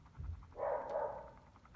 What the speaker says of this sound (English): so Boggin is barking again